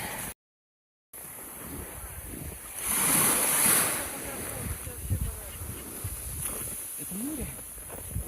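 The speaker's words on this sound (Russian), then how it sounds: "это море." Sea waves wash onto the Barents Sea shore at Teriberka in March, a steady broadband surf roar with a louder surge midway, heard alongside wind buffeting the microphone.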